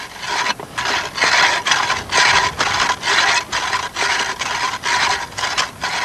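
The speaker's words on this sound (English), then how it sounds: "dry drilling goes on" Dry drilling into stone to cut a core, a loud rhythmic rasping grind repeating in steady strokes, close and alone with no voices.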